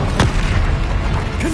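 Bombarda spell explosion in Hogwarts Legacy, a dense booming blast with rumbling debris lasting about a second and a half, loud and close.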